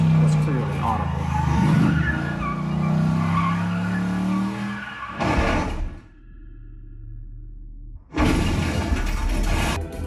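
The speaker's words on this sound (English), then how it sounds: "The car chases, especially the one with the Mustang, was terrific, and the throaty sounds from the engine sounded terrific." A film car chase featuring a Mustang plays back: a loud, throaty engine roar with tire screeching and a sharp crash or shatter, a sudden near-silent gap, then another loud burst of engine and skidding.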